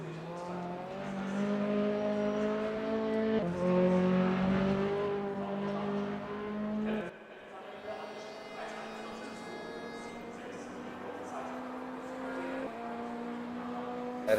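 Mazda MX5 race car on a hot lap in Raceroom, engine whining steadily at high revs with a sharp drop midway as it shifts or brakes, commentator talking over it.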